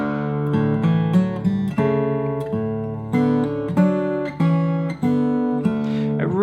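Plucked fingerstyle acoustic guitar plays The First Noel melody with harmony notes from the chord layered beneath, steady picked notes ringing together, clear and close, no talking.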